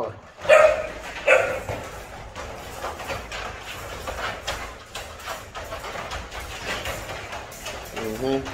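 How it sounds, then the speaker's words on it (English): A Rottweiler barks a few sharp times near the start, then a softer yip later, with quiet background noise between. "Who are you barking at?"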